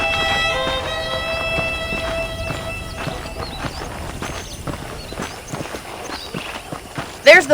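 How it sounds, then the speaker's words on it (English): Horse hooves clip-clop across a stretch of ground in the video game Red Dead Redemption, an irregular walking rhythm with a brief neigh-like sound near the end and other game noise behind it. "The horses are saddled up over here."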